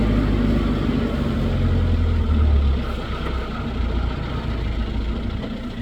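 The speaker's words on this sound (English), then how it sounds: "You leave it running for about 5 minutes in gear, and then Benji doesn't like it." A vehicle engine left running in gear, idling steadily with a deep low rumble that eases slightly partway through, close and continuous with no talk.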